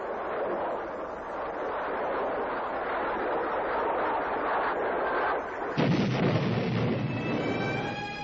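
Sustained rapid cannon fire from an F-4 Phantom II fighter, recorded with camera gun film, a dense continuous roar of bursts that grows abruptly louder and harsher near the end, with no speech.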